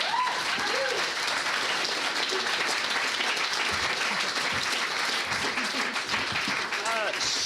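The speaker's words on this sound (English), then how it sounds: "Please give a huge round of applause to the cast." A comedy show audience applauds the cast with sustained, dense clapping throughout, mixed with cheers and crowd voices.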